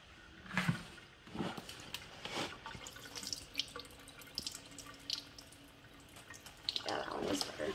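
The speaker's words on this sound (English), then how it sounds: "I'm gonna dump out the excess water." Excess water pours from a filled BullBell water weight into a sink, sloshing and splashing in uneven gushes with drips between, fairly close and fairly quiet, with no talk.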